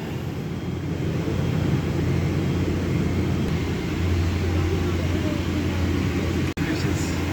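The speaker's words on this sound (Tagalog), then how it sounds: "Ganito sa loob ng eroplano." Inside an airliner cabin at Jeddah Airport, a loud, steady low rumble fills the space without letup, broken only by a brief dropout near the end.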